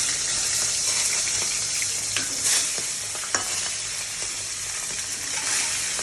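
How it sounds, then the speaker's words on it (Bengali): A fish head, likely hilsa, fries in hot oil with a steady loud sizzle throughout, broken by a few sharp clinks and stirring scrapes. "প্রথমে আমি মাথাটা ভেজে নিলাম।"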